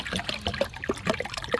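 Fresh water poured for a backyard flock of chickens, a close, steady trickle and splash of liquid running for under two seconds with no voices.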